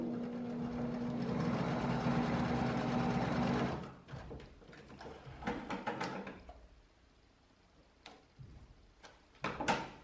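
A sewing machine stitches in a zipper with a few seconds of loud, continuous running, then stops, followed by short backstitch bursts and clicks of fabric and machine handling.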